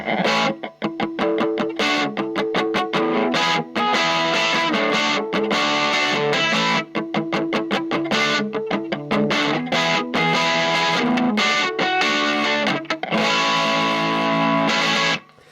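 Gibson Les Paul Studio '50s Tribute electric guitar with P90 pickups plays a punk tune: loud, distorted, driving chords struck in a fast, choppy rhythm with brief gaps between bursts, no echo, alone.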